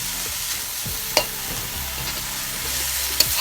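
Vegetable hakka noodles being stir-fried in a pan, a loud steady sizzle with soft scraping and tossing sounds and two sharp clinks of a utensil against the pan.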